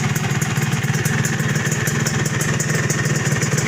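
A two-stroke 2005 Suzuki Satria Hiu motorcycle engine runs steadily close by, a loud, buzzy, rapidly pulsing idle with a crisp rattling beat and no voices over it.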